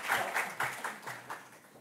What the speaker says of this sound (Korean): 네, 인사하실 때 박수하겠습니다.